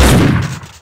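A loud, close burst of gunfire from the shooter game Max Payne 2 hits hard at the start and then tails off over under a second, with no talk.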